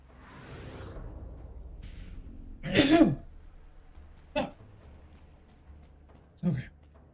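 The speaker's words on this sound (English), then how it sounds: "Sneeze." A single loud, sharp sneeze bursts out during a Dead Cells gaming session, followed by two shorter, fainter noises over a quiet background.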